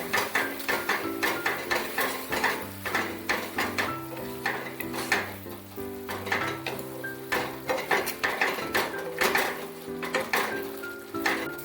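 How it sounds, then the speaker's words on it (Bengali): Masala with chopped tomato, salt and kasuri methi is stirred and fried in a pan, with a spoon scraping and knocking against the metal in a busy, repeated rhythm over a low background hum. "টমেটো কুচি আর কিছুটা কস্তুরি মেথি দিয়ে মশলাটাকে খুব ভালো করে কিছুক্ষণ কষিয়ে নেব।"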